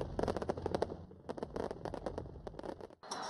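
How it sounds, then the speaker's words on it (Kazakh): New Year fireworks burst over the Giza pyramids in Egypt, a rapid run of crackling pops and bangs in dense bursts with a short pause near the end. "Мұнда көне жәдігерлер жанында түрлі түсті отшашу атылды."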